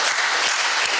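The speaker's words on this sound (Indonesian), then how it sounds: "Sekali lagi tepuk tangan dari bawah." A church congregation at a Good Friday service bursts into dense applause, a brief, loud wash of clapping with no talking over it.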